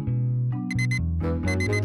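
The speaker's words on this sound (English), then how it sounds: "Rae Rae was waking up to the sound of her alarm clock." An alarm clock rings with a bright, repeating electronic melody of short beeping tones, loud and close, with nothing else heard.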